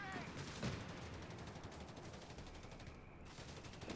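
Mortar fire in the strategy game Company of Heroes 3 mixes into a constant din of rapid battlefield gunfire, moderately distant and unbroken across the whole stretch.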